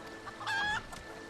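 A green-painted tamed rooster in the video game Final Fantasy XIV lets out one short, bright clucking call over a faint steady game-background hum.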